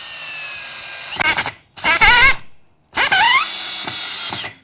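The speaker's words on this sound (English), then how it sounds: "before we put the screw gun away" An electric screw gun drives a screw, with several short whirring bursts separated by pauses, the motor pitch rising and falling as it spins up and bites into the material, loud and close with no talk.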